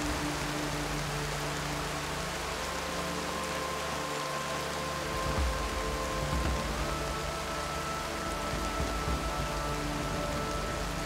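Heavy monsoon rain pours steadily over a sal forest in Gir, western India, a dense continuous hiss of drops on foliage with a faint low rumble beneath, loud and unbroken throughout.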